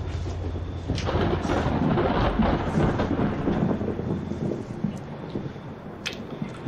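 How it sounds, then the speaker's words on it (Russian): Rumbling thunder rolls over the steady hiss of heavy rain as a downpour begins, a continuous dense wash of sound with a few sharper cracks near the end. "Сейчас ливень начнется."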